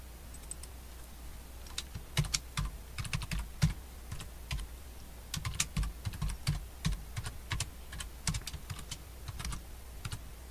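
Computer keyboard typing while entering program code, with bursts of sharp, close key clicks in irregular runs and short pauses over a low steady hum.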